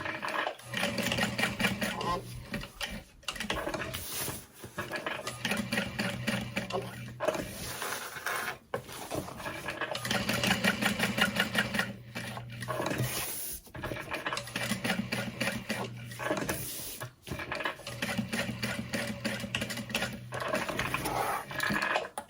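A sewing machine stitches a Trailblazer backpack, running in long steady bursts of rapid needle strokes with short pauses between them, loud and close.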